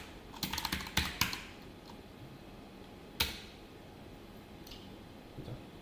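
Computer keyboard typing while writing code for a popup layout: a quick burst of keystrokes, a few isolated clacks, then a single louder key tap and faint late taps in a quiet room.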